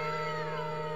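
A pet cat lets out a short, tonal meow up close, a single drawn-out call with no talking.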